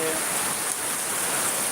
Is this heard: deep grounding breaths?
no